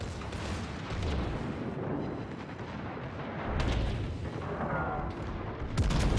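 Secondary guns firing on the warship Schlieffen in World of Warships: repeated booming shots and rumbling blasts rise and fall over steady battle noise, several distinct heavy thumps spaced across the stretch.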